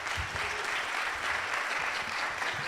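Steady applause from an audience after a series of lightning talks, dense and sustained clapping that fills the room at an even level.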